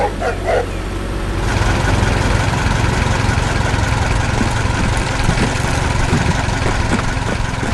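A red tractor with a digging attachment runs steadily, its heavy engine a low, rumbling drone that stays loud and constant throughout.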